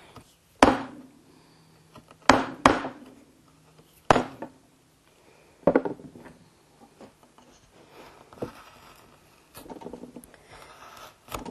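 A wood gouge carves into a sculpture in sharp, separate strokes, about half a dozen crisp cuts spaced unevenly with quieter scraping between them, close and clear with no talking.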